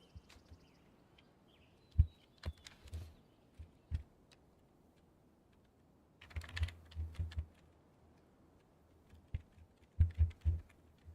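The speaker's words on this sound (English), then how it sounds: "Do you still hear the keyboard or no?" Clattering keystrokes on a computer keyboard, tapped in short irregular bursts with pauses between, close and fairly quiet in an otherwise still room.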